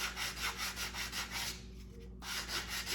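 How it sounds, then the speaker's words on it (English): Steady rhythmic rasping of sandpaper rubbed back and forth on a chipboard edge, close up, with a brief pause before the scraping resumes. "so just sand these down"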